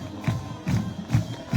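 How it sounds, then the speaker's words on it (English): High school football crowd at a Benson Bobcats versus Santa Rita Eagles game clapping along to the fight song, loud rhythmic crowd claps and roar landing roughly every half second. "this crowd clapping along to the fight song and the cheerleaders performing along with the fight"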